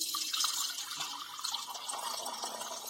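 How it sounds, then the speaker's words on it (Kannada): Water poured into an earthen clay pot to make a drink with sabja seeds, a steady close trickling and splashing stream, faint and continuous, with no talking. "ನಮ್ಮ ದೇಸಿ ಗಡಿಗೆ, ಮಣ್ಣಿನ ಗಡಿಗೆಲಿಂದ ನಾವು ಪಾನಕ ಮಾಡ್ಕೊಳ್ಳೋಣ ಅಂತ. ನಮ್ಗೆ ಎಷ್ಟು ಬೇಕಲ್ಲ ಅಷ್ಟು ನೀರು ಹಾಕೊಳ್ಳೋಣ"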